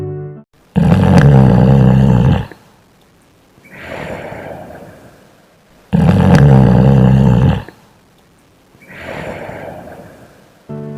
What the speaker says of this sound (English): A loud, monstrous snoring sound fills the courtroom.